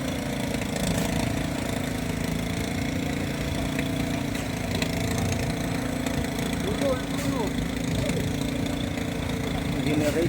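A generator engine running aboard a boat at sea, with a steady low droning hum carrying on under loud overlapping voices and rough water.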